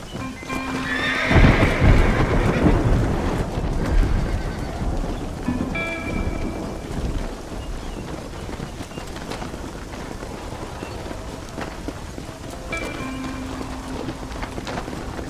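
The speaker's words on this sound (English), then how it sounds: "Let's go! Get them horses moving!" Horses in a video game (Red Dead Redemption) whinny loudly and hooves clip-clop steadily over a low rumbling background, with a second neigh later and rain-like hiss throughout.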